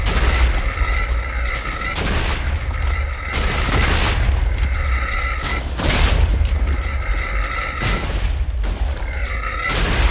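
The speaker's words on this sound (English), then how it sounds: "It's a big gun." A big gun in a video game booms out heavy shots at a steady pace, roughly every two seconds, each blast loud and close with a rumbling tail between them.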